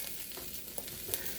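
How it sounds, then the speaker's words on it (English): Cabbage for pork lo mein stir frying in a hot pan, a short burst of fairly quiet, steady sizzling with a couple of small spatula ticks. "cabbage, you have to stir fry it a little bit"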